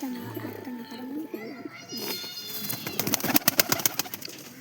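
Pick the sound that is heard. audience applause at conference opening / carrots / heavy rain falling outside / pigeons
pigeons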